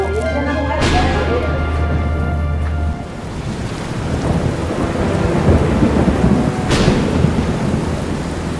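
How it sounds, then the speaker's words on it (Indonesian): A heavy rainstorm pours steadily on surfaces while loud thunder cracks and rolls, with a sharp strike near the start and another later, all close and enveloping. "Ayo Ibu, kita nampung air hujan."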